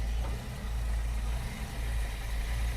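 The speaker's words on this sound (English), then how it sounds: "All you can hear is the belts and the prop whirling around." A steady low mechanical whir of belts and a spinning propeller, constant and fairly quiet, with no voices.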